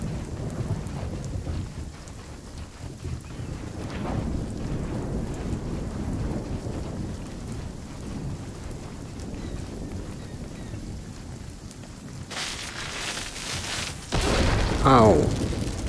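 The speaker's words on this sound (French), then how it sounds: "Avec les éclairs qui nous tombent dessus." A thunderstorm rumbles in the video game Runescape: Dragonwilds, with steady rain hiss and low rolling thunder, then sharp crackling lightning strikes bursting near the end, loud and close.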